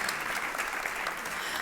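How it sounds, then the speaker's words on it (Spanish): An audience claps for a team after a public conversation, a dense, even burst of applause that holds steady and close from start to finish. "Un aplauso para ellos."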